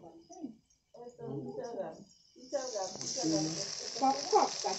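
Ground spice paste hits a hot frying pan and breaks into a loud, steady sizzle that continues to the end, with people talking nearby over it.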